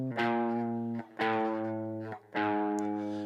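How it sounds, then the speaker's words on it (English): Distorted electric guitar power chords ring out in three sustained strikes, each chord stepping down like a descending bass line, loud and alone with no voices. "And then this descending bass line."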